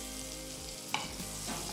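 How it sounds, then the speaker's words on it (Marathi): Butter sizzles softly on a hot tawa as pav is toasted, a steady crackling hiss with one small clink partway through, close and without talk. "आधी या बटरवर आपण पाव दोनही बाजूने भाजून घेऊयात"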